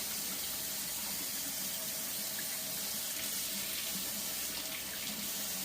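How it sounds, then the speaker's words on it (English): Hot water runs steadily from a household tap into a sink, a constant hissing splash heard close up and alone, with no voices. "I'm going to turn on the hot water."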